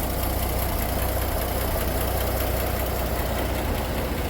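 Engine of a 1920 Nash 687 car idling with a knocking fault, a dense, steady mechanical rumble and clatter heard close, with no voices.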